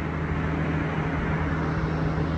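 Well drilling at a new house next door: a loud, steady low-pitched mechanical drone with a constant hum, continuous and unbroken throughout, with no voices.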